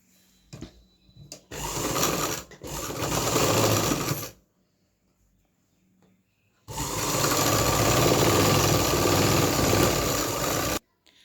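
Sewing machine stitching pleats on a lined kurti: two bursts of rapid, steady mechanical whirring, the first broken briefly, the second longer and continuous, close and loud, separated by quiet pauses.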